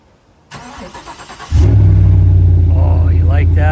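A GMC Sierra Denali pickup's engine cranks and fires up with no exhaust fitted, settling into a loud, deep, raw idle without muffling, after a brief rustle and clicks.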